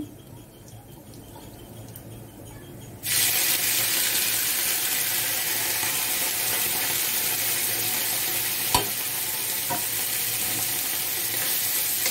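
Chopped banana flower hits a pan of hot oil with whole cumin seeds and bursts into a loud, even sizzle after a quiet start, then keeps frying steadily up close, with one brief clack of a utensil and no talking.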